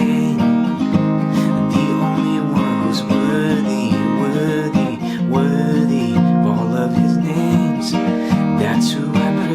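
An acoustic guitar fitted with a capo strums the bridge chord progression of the worship song That's Who I Praise, with full sustained chords and a singing voice on top, loud and close throughout.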